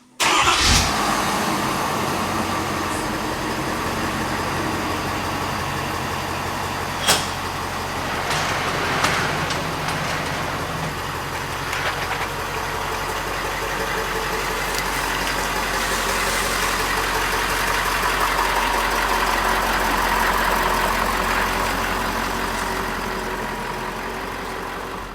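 A 2022 Ford Super Duty truck's engine cranks and catches with a sharp burst, then settles into a steady, loud, close idle for the rest of the clip, broken by a few brief throttle blips.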